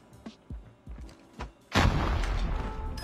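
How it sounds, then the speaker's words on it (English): In the Call of Duty Mobile video game, a few scattered thuds and shots lead into a loud grenade explosion that erupts into a sustained roaring blast filling the rest of the moment. "Grenade out!"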